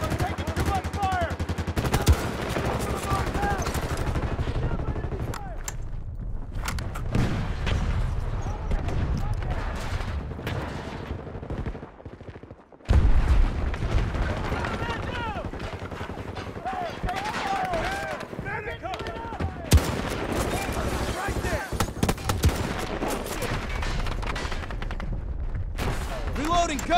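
Heavy gunfire and explosions in Battlefield 2042 Bad Company Rush, a dense battle soundscape of machine-gun bursts, single shots and booming blasts going on for almost half a minute, with a voice shouting over the combat.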